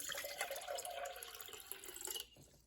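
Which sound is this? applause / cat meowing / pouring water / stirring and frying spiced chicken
pouring water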